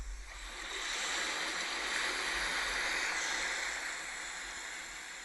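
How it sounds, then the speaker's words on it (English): Steady rushing surf of ocean waves from a relaxation app, a continuous broad wash swelling slightly in the middle, heard alone without voices. "Let's see if we can hear some ocean waves."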